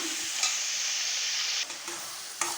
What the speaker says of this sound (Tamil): தக்காளி நல்லா வதங்கி வர வரைக்கும் நம்ம வதக்கிக்கலாம்